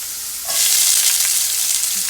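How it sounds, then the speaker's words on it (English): Onions hitting a hot skillet for salmon patties, with a quiet lull and then a sudden loud, steady sizzle that holds for about two seconds, close and alone. "I'm gonna add the rest of the onions in this skillet"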